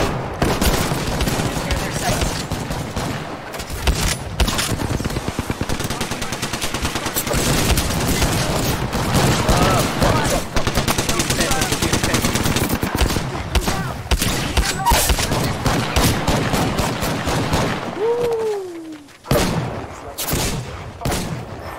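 Loud, dense gunfire fills a match of the video game Apex Legends, with rapid bursts and volleys of shots running almost continuously before a brief lull.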